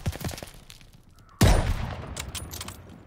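A single loud gunshot booms in a Stalingrad sniper video game, hitting suddenly after quieter scattered sounds and trailing off in a long decaying echo.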